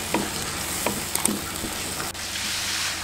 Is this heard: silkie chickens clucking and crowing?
no